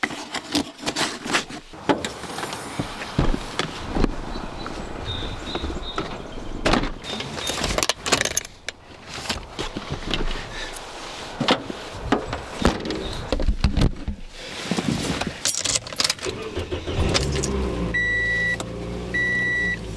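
Interior sounds of a car on a drive out, with door and power-window noises, electronic beeps and steady road rumble throughout; no talking.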